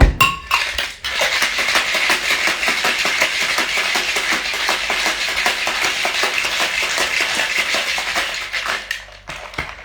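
Cocktail shaker shaking a paloma with lime juice and ice, a loud, close, rapid rhythmic rattle of ice against metal that keeps going for several seconds before it stops.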